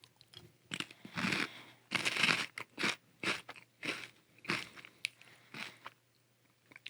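Close, crisp crunching and chewing of hot Cheetos, loud bites breaking into rhythmic bursts of crackly mastication separated by short pauses, with nothing else around it.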